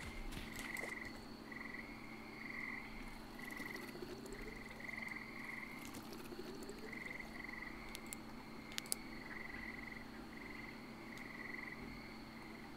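Frogs croak steadily in the survival game Miscreated, a regular pulsing chorus repeating through the whole stretch over a low ambient hum, with no talking.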